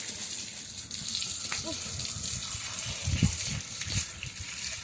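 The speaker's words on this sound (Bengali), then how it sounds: "তাই একটু একটু মুখে চোখে জল দিচ্ছি" Water splashed onto a face outdoors on a hot day after cleaning a cow shed: intermittent splashes and trickling water, with a couple of sharper splashes near the middle, over steady background noise.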